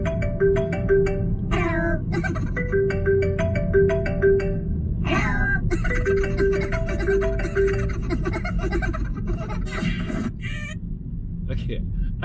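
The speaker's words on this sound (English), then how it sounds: "Sorry, that's my ringtone. I like Minions. They just laugh at you when you can't answer your phone." A phone ringtone of cartoon Minions laughing plays loudly in a car, with a repeating melodic tone pattern and bursts of high giggling over a steady low rumble.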